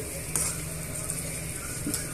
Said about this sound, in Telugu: ఇప్పుడు ఇవన్నీ కూడా బాగా వేగనివ్వాలండి